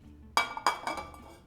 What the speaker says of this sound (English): we're just going to shake it loose onto